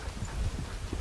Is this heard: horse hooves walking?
yes